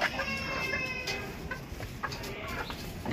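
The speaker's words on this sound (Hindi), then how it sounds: "ये दो नई मुर्गियां" Several chickens cluck and murmur close by in a farmyard coop, with two new hens among the flock and a rooster nearby; a busy, continuous stream of soft clucks with scattered louder calls.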